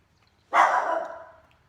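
A pet dog gives one loud, close bark that rings out briefly and then fades, with quiet before it.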